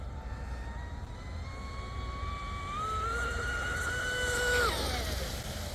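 An Oxidean Marine Dominator speedboat makes a quick run, its outboard engine whine climbing steadily in pitch from a distance, then cutting off sharply near the end over a background wash of water and wind.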